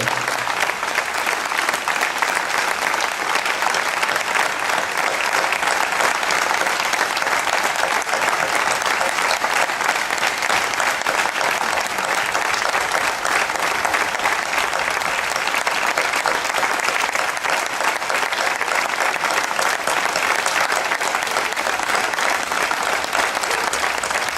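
Loud, sustained applause from an audience honouring firefighters, gendarmes, police and medical staff at a tribute ceremony, with dense clapping running steadily throughout.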